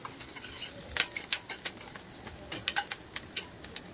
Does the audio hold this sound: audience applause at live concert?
no